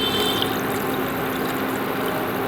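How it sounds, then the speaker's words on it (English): Water poured into a pot on a gas or induction hob to make broth for lemon coriander soup, a steady close rushing splash that runs unbroken throughout. "I'm going to add some water in this."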